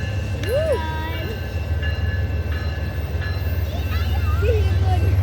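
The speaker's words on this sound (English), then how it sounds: "Here comes that train." A train rumbles past with a loud, steady low roar and wheel noise, while high squeals and tones ring out above it and people talk faintly in the background.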